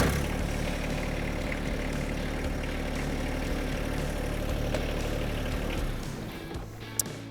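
A John Deere tractor engine with a mower deck idles steadily with a low, constant rumble that eases slightly near the end, followed by a brief sharp click.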